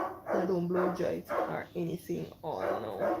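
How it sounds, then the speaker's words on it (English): A dog barks and whimpers in short bursts in the background of a home while a person talks over it. "that's my dog in the background"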